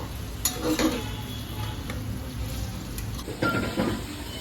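Onions and slit green chillies fry in oil in a cooker, giving a continuous low sizzle with a few scraping stirs of a spoon against the metal, heard up close without talk.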